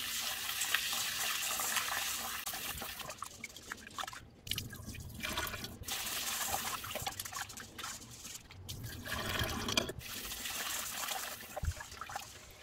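Tap water runs steadily over sushi rice while it is rinsed in a bowl or strainer. A close, continuous splashing flow is broken by brief dips where the stream shifts or is interrupted.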